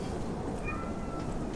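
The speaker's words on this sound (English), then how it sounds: "I hear a cat!" A cat meows once in Lies of P, fairly faint, over a steady background hum.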